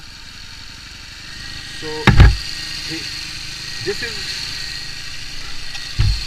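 A motorcycle engine idles steadily while the carburettor idle screw is adjusted, its low running hum continuous beneath a man's speech, with a few brief knocks and clicks.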